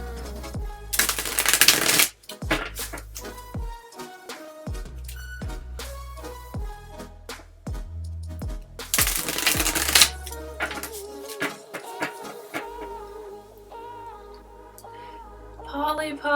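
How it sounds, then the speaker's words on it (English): Tarot cards being shuffled and handled, with repeated riffling bursts and soft card slaps and taps across the span, close and fairly loud, while music plays underneath. "I'm gonna pull a few cards for the new moon"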